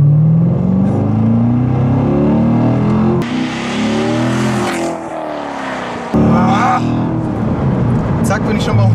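A Corvette C7 Stingray pulls hard from inside the cabin, its engine note climbing through the revs. Two distinct gear changes break the roar before it builds again, with voices present alongside the loud drone.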